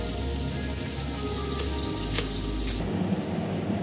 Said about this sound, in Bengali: এরকম করে আমি সব কটা মাছ ভেজে নেব।